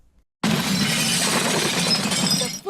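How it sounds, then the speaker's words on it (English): A pickup truck smashes into a grocery store's glass front, a sudden loud shattering crash followed by a sustained spray of breaking glass, with no talking. "A pickup truck smashes into a grocery store"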